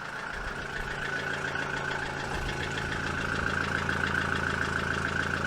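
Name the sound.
SAAB car engine idling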